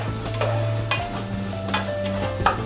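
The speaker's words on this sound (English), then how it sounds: "So we had already had the sausage and the ground chuck cooking. Put the onions in." Sausage, ground chuck and onions fry in a pan at a street food stall, a steady sizzle broken by several stirring scrapes.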